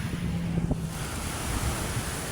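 Wind blows steadily at Manila Bay at low tide, a continuous close rushing roar with microphone buffeting, mixed with surf washing below and faint low thuds, no talk.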